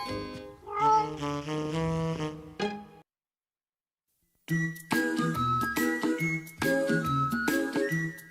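Children's voices imitate cat meows in a French animated cartoon. There are several short, tuneful meowing bursts with jingly musical tones, a silent gap, then more meows.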